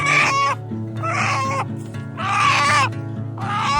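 Chickens from a flock being herded to a new spot near a wheeled coop call out loudly in four bursts of squawking, clucking cries, with a steady low hum underneath.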